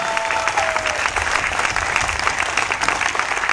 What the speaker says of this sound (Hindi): मेरे great upline doctor Prem Kumar sir के लिए एक बार जोरदार ताली चाहूंगा